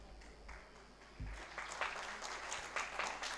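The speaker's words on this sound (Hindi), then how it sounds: "आप सभी ने सबके स्वागत में तालियां बजाई।" An audience at a youth convention in Hodal, Haryana claps together, softly and at some distance at first and then in fuller bursts, with a low hum underneath.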